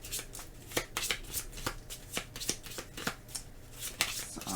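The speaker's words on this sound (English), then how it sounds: "I do need to go ahead and shuffle." A deck of playing cards being shuffled during a solo tabletop card game, a steady run of crisp riffling and snapping bursts repeating over about four and a half seconds, close and fairly quiet with no talking.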